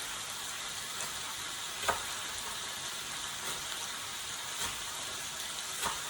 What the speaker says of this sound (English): I just want to give that a great sear